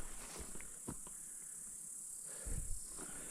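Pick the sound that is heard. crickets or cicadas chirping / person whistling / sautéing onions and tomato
crickets or cicadas chirping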